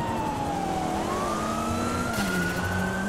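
Police siren in a role-play video game, a loud, close wailing tone that slides down and then back up, continuous over the engine drone.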